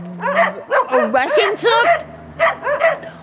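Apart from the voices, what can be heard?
dogs barking on a littered balcony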